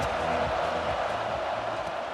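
A video-game football stadium crowd from EA Sports College Football 26 cheers in a steady, loud, dense roar for about two seconds, with no clear voice above it.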